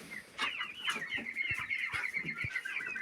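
Young pullets cluck and chatter in a farmyard coop, a steady run of short, close calls overlapping one another with faint rustling beneath.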